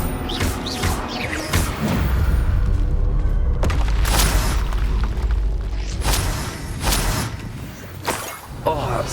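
A spell blast in Hogwarts Legacy on PS5, heard as loud booming whooshes and crashing impacts in rapid succession, with a voice speaking among the magic effects.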